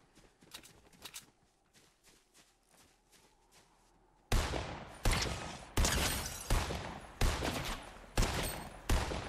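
Rapid gunfire in an online video game crackles in quick bursts, quieter shots at first, then loud, close volleys of repeated shots with no talk over them.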